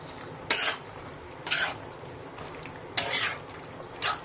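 A spoon scrapes and clinks against a pan while pasta is mixed, four distinct sharp strokes spaced about a second apart over a faint background hum.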